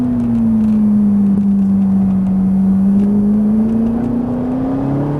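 A Ferrari 458 Italia engine on a circuit at Haute Saintonge pulls hard under acceleration, a loud, close and steady droning roar that sweeps slightly down and then back up in pitch, with no pauses.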